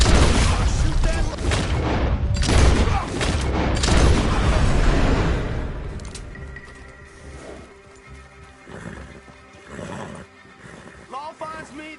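Gunfire and loud rumbling action fill a Red Dead Redemption fight against Lemoyne Raiders and the law, with dense booming shots and clatter for several seconds, fading to quieter scattered sounds and a horse's whinny later on.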